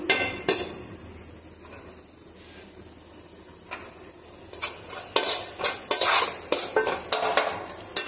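Turmeric being stirred into a frying pan with oil, a quiet sizzle under repeated spatula scrapes and clanks against the pan that grow busier and louder toward the end, close by.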